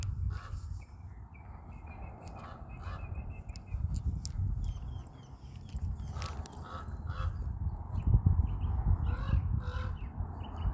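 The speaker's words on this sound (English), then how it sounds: "There's a crow in the tree." A crow perched in a tree caws in repeated harsh bursts at a moderate distance, with the calls spaced irregularly over steady outdoor background noise.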